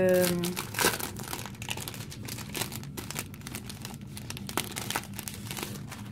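Crinkly rustling of die-cut paper craft flowers being unfolded and pulled apart, a steady run of close crackles and soft tears with a louder crunch near the start.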